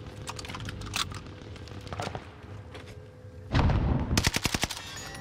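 Bursts of automatic gunfire in the Call of Duty Vanguard Warzone video game, scattered rapid shots building to a loud dense rattling volley near the end, with no talking.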